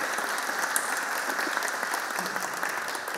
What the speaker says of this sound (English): Can we get one round of applause for Milos?